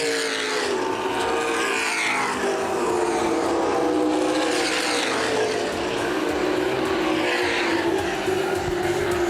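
CRA Late Model Sportsman race cars roar around Winchester Speedway, engines swelling and fading as they sweep past in a loud, continuous rush.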